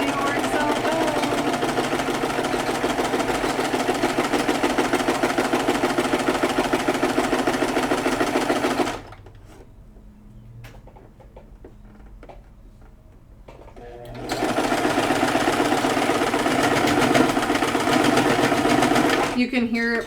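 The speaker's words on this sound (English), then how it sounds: "You can hear my sewing machine when it's hitting the elastic too." Sewing machine stitching over elastic, a loud, steady rapid mechanical whir that stops for a few seconds of quiet and then resumes, with a voice talking over it.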